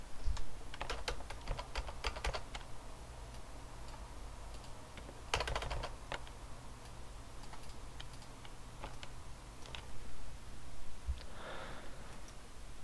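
Computer keyboard keys clicked repeatedly while selecting faces in 3D modeling software, a quiet series of light taps in uneven bursts with a brief soft noise near the end.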